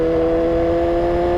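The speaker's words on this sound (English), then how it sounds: "And you can hear me using the quick shifter." BMW K1300S motorcycle accelerating on the quick shifter, a loud, close, steady engine drone with strong tonal harmonics and no voices.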